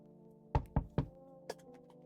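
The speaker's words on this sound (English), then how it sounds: "Someone's knocking on my door." Three quick knocks on a door in the horror game No I'm Not a Human, then a fourth softer knock after a pause, heard over a low steady hum.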